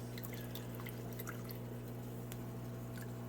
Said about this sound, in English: Let that all drain out.